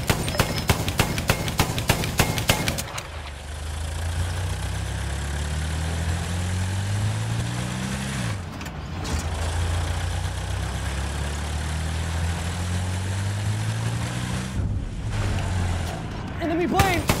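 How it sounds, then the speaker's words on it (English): Droning engines of enemy aircraft in the Battlefield 1 video game rise and fall in pitch as planes pass, a steady loud rumble lasting throughout after a brief burst of rapid clatter at the start. "enemy plane in sight!"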